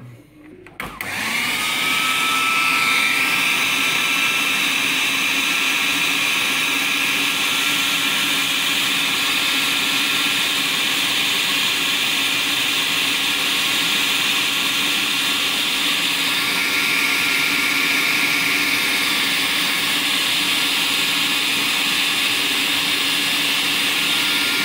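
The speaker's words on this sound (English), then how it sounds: "And now I'll blend it back up and hopefully that should be good to go then." A kitchen blender whirs steadily for about twenty-five seconds, pureeing a homemade beefheart mix for discus fish food, a loud continuous motor drone that starts abruptly and holds without pause.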